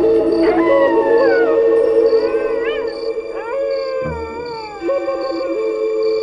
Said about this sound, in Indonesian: Lolongan serigala itu membuatku geram.